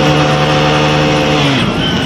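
A motorcycle engine runs in first gear with a loud, steady, close drone and strong harmonic tone, dipping slightly near the end as the revs shift.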